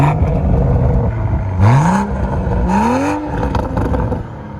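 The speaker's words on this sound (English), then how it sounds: "And also the true dual exhaust, not only do they look good, they sound good." Toyota Supra 3.0 with a manual gearbox and true dual exhaust, close and loud, revving twice in rising sweeps over a low rumbling idle.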